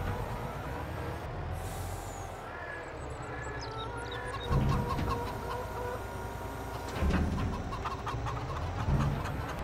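Chickens clucking in the farming game Farming Simulator 22, a steady run of clucks and fowl calls under mechanical hum, with a hiss like an air brake and a few louder bursts.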